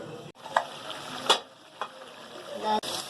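Koftas cooking in gravy in a pan over reduced heat, heard as a soft, close bubbling sizzle with a few louder stirring scrapes over about three seconds.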